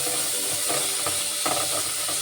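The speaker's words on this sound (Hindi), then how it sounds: "अब इसमें हम 1 टेबलस्पून अदरक लहसुन का पेस्ट ऐड कर लेंगे। का कच्चापन जाने तक अच्छे से भून लेंगे।" Ginger garlic paste sautés in a pan for Andhra style mutton kofta curry, a dense, steady hiss and sizzle up close with soft stirring taps, no voices.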